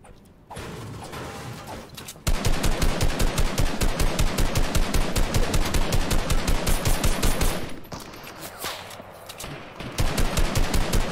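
Rapid repeated gunfire in Fortnite, a long run of evenly spaced loud shots in bursts lasting several seconds with a brief pause before firing resumes.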